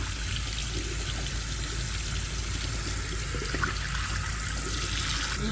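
Steady, loud running water from a tap while hair is rinsed clear of gray-blending product, a continuous broadband rush with no pauses, close up and with no talking.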